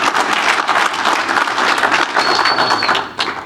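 A dense, steady roar of audience applause and cheering at a craft beer debate, many hands clapping loudly and continuously, with a brief whistle cutting through near the end.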